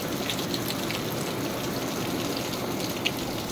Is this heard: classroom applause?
no